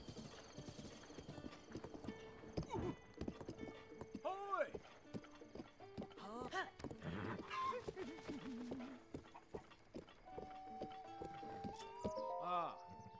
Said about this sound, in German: Du bist ein störrisches Pferd.